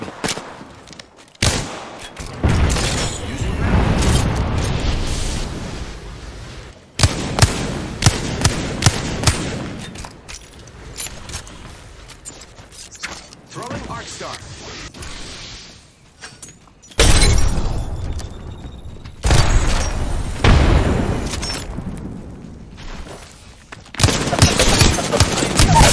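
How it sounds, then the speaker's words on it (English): Gunfire in the Apex Legends video game, loud bursts of rapid automatic shots and sharp impacts in several clusters with brief pauses, close and punchy. "Opening fire on the enemy."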